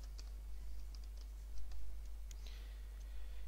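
Faint, scattered keystrokes tap on a computer keyboard as a command is typed, light irregular clicks over a steady low hum.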